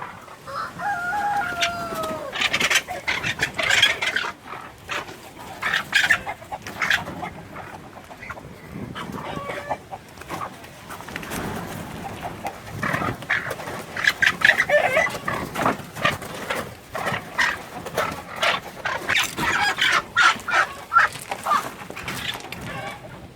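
Loud raucous chachalaca calls and clucking from chickens fill a chicken coop in Deep South Texas, with a rooster crowing early and scattered harsh chattering throughout.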